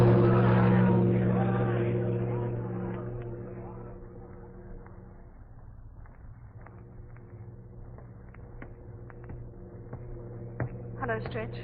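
In an old radio drama, a boat's engine drones steadily as the vessel pulls away, loud at first and then slowly fading, while voices talk over it.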